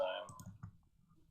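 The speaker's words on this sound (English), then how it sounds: "I'm just clicking buttons now." Computer mouse clicking during a Magic: The Gathering Vintage game, a few quick faint clicks close by, with an opening burst of louder sound before them.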